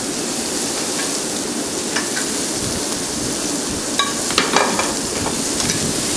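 Steady, loud sizzle of meat searing in a hot pan in a New Orleans restaurant kitchen, a dense hiss throughout with a few brief clinks of utensils near the end.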